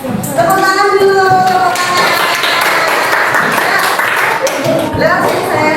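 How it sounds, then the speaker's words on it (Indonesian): Students clapping in a classroom, a steady burst of applause that lasts several seconds, with children's voices and chatter mixed in as it starts. "Tepuk tangan dulu."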